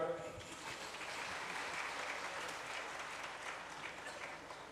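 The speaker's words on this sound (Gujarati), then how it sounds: "તાળી પાડો." Sustained applause from an audience at a devotional sermon during a religious festival, a dense steady patter of many hands clapping that fills the whole stretch at an even level.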